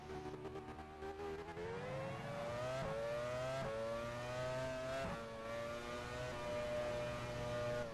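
A Formula One car engine in the F1 Challenge racing game, 1999 Canadian Grand Prix, screams loud and steady through a qualifying lap, its pitch climbing and dropping with each gear change and throttle lift.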